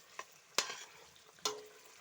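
Faint sizzling of carrots frying in a pan with a few sharp scraping stirs, quiet and close, no voices.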